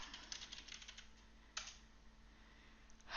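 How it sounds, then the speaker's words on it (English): Fingers type in quick bursts on a computer keyboard while entering an address into a web browser, soft close clicks with a few pauses and a sharper tap near the middle, no voices. "to apply for My Aged Care online, you need to type it into your browser."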